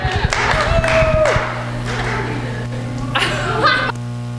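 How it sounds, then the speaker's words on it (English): Church congregation applauding a couple in a steady, moderately loud wash of clapping, with light laughter, a held tone and indoor hum running underneath. "Please give a round of applause"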